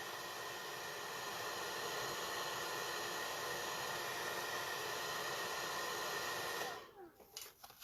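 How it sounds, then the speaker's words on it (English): A hairdryer blows a steady, loud broadband hiss while heating a model's small windows, then cuts off abruptly near the end, leaving a brief quieter rustle. "So I pull the hairdryer back a little bit farther."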